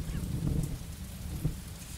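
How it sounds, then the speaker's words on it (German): Steady rain falls in the Cafe Owner Simulator video game, a soft continuous patter with a low rumble beneath, no voices. "wann hört das auf zu regnen?"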